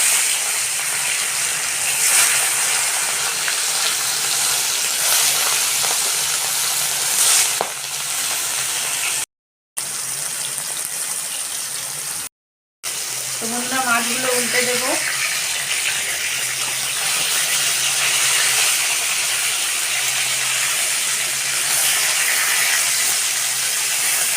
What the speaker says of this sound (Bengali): গরম হয়ে গেছে কড়াতে সর্ষের তেল দিয়ে দেবো